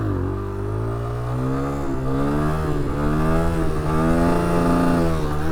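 A motorcycle engine revs steadily through a wheelie, with a loud, sustained mid-pitched drone that climbs and falls slightly in pitch and stays close and alone for the whole stretch.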